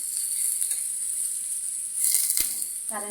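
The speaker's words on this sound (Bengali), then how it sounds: "তেলটা গরম হলে মাছগুলো একটু ফুটে গায়ে আসে" Tengra fish spattering in hot oil, a steady bright sizzle holding throughout with a louder burst of crackle near the end, close by and with no voices.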